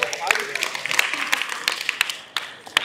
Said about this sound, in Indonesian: Tepuk tangan dong untuk MPK